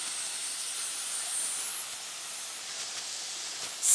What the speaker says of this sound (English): Oh, the steam is taking forever.